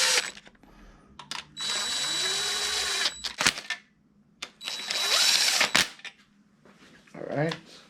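Ratchet wrench tightening crank bearing cap bolts on an LM7 5.3 LS engine, heard as bursts of rapid clicking interrupted by sharp knocks and pauses, with a voice speaking at times.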